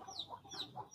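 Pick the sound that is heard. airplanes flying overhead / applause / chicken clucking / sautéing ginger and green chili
chicken clucking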